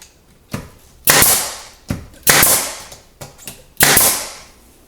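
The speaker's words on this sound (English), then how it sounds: "now I'm going to shoot a couple brad nails in here to hold it in place" A brad nailer drives brad nails into wood during a repair job, firing three sharp, loud cracks about a second apart. Each shot is followed by a short hiss of released air.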